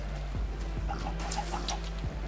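Chickens in the Minecraft video game make soft, short clucks in a quick series against a steady low background hum from a coop setting.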